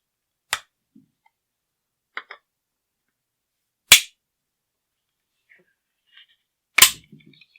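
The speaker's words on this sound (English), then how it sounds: "So now we're just going to torque over until we hear it click." A torque wrench tightens a rail on a rifle, giving a few sharp, isolated clicks and snaps spaced seconds apart in near silence, the loudest ones close and crisp.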